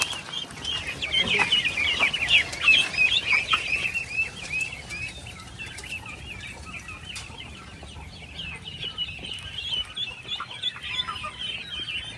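Chickens on a farm cluck and chatter together at feeding time, a busy, continuous flock noise that is loudest in the first few seconds and then settles into steady, moderate clucking with faint background rustle.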